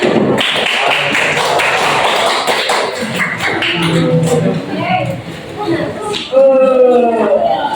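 A room full of people claps in sustained applause, with voices and cheering mixed in near the end.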